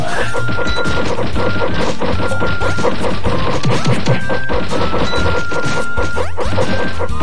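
Bomb explosions in a video game crash and thud loudly and continuously, a dense barrage of overlapping blasts and smashing impacts with game music running underneath.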